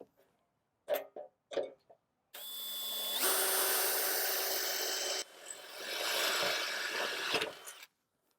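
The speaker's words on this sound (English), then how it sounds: "quarter turn your housing for adequate support and start drilling your holes" A power drill with a quarter-inch bit bores holes while an outdoor shade housing is mounted, with a few short knocks and then a long grinding whir broken by a brief dip.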